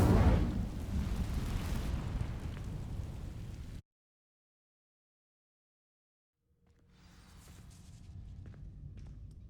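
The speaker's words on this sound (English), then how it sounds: "Incendio!" Incendio fire spell cast in Hogwarts Legacy: a loud, dense whooshing roar of flame for several seconds that cuts off abruptly into silence, then a softer ambient rumble fades back in.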